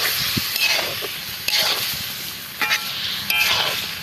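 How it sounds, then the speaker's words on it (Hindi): Chicken karahi fries in a pan with white pepper and yogurt, a loud steady sizzle broken by a few sharper bursts as the mixture is stirred, with no speech. "आधा कप हम इसमें दही का ऐड कर देंगे और इसकी भी 2 से 3 मिनट भुनाई कर लेंगे"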